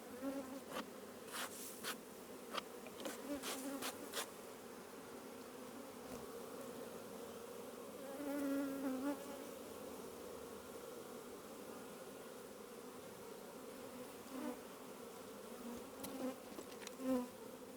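Honeybees buzz around an urban hive holding little honey, a steady hum with individual bees droning past close to the listener and occasional clicks and taps.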